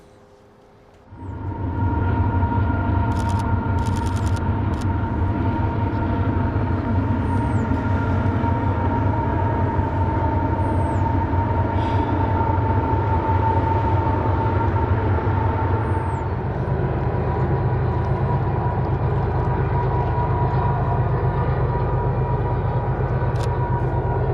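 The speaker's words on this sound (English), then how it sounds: "CPKC Grain Train 301 is bound for Vancouver to ship its cargo across the Pacific Ocean" A CPKC grain train bound for Vancouver rolls steadily through the Canadian Rockies, a loud continuous rumble of wheels and locomotive drone starting abruptly and holding for the length of the pass, with faint high squeals and clanks over it.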